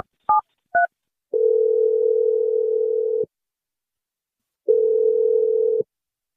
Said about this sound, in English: I'm going to dial your nanny, Elsie, right now, and hopefully she picks up the phone